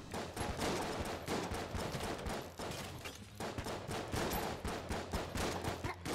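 Rapid gunfire fills the video game Enter the Gungeon, with dense overlapping shots and bursts in a near-continuous volley that stays loud for several seconds.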